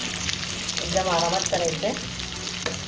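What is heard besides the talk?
hara bhara kabab frying in oil on both sides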